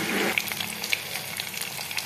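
Curry leaves hit hot oil already holding a garlic, coconut and coriander paste for a dal tempering. A sharp burst of sizzling settles into a steady, close crackle.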